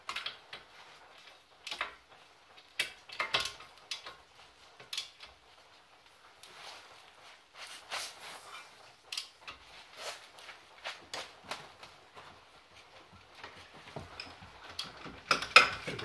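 Brake bolts on a 2003 Audi A4 are tightened with a ratchet, a close, faint series of irregular clicks and metallic ticks scattered through the clip with quiet pauses between them.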